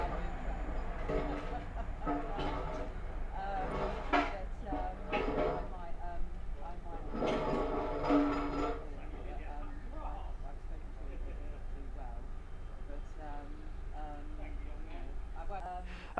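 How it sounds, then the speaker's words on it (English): A Grand Central train running from London King's Cross to Bradford Interchange rumbles past on the East Coast Main Line at Sandy, a steady rushing roar with rhythmic wheel clatter, heard under nearby talk. "the next train to pass by is the Grand Central Atlante from London King's Cross to Bradford Interchange"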